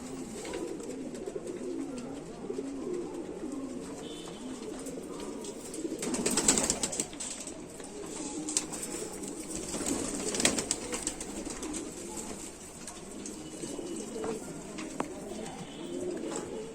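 Indian Rampuri pigeons coo in a continuous, fairly close murmur, broken by two louder bursts of feather-shaking and wing flutter from the birds ruffling themselves.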